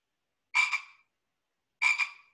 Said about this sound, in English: I'm going to play the sound of the Pacific tree frog for you